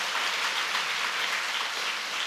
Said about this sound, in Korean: 큰 감사와 영광의 박수를 올려주시기 바랍니다